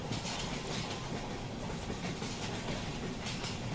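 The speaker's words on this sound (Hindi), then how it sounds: "CSMT पनवेल स्लो लोकल है" A CSMT–Panvel slow local train in Mumbai rolls along the rails, a loud, continuous rumble with fast clickety-clack close by and no voices.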